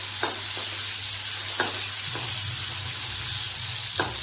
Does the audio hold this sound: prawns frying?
yes